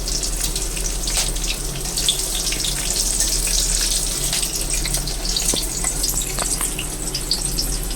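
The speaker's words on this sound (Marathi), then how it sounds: "आणि लसणाच्या पाकड्या टाकायच्या त्याच्यामध्ये" Garlic cloves fry in hot oil in a pan, a dense continuous sizzle and crackle at close range that stays steady throughout, with no talking.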